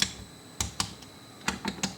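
A torque wrench tightens engine head bolts on a Mk2 Toyota Supra, giving sharp, close metallic clicks, two early and three in quick succession later, over quiet background.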